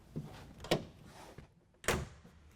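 Pickup truck tailgate swung shut with a couple of soft thunks and a firmer latching clunk near the end, close by in a quiet setting.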